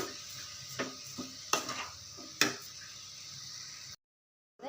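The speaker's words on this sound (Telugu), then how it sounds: "ఇలా బాగా కలుపుకుంటా ఇంకొంచెం గట్టి పడే వరకు బాగా కలుపుకుంటూ ఉడికించుకోవాలి" A spoon scrapes and knocks against a pan while a carrot rava burfi mixture is stirred. Several distinct clinks and scrapes sound close by over a faint sizzle, then the sound cuts to silence near the end.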